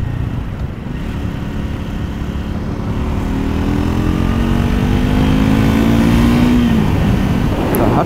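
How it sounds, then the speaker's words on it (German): A 2024 Triumph Scrambler 400 X single-cylinder motorcycle engine runs loud and close, a steady thumping drone that builds slightly in intensity before a rising rev tone sweeps up and fades near the end. "Klar, ist ein Zylinder, aber trotzdem, also der klingt eigentlich auch nicht schlecht, muss ich sagen"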